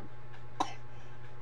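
A baby gives a single short cough, faint against a steady low background hum.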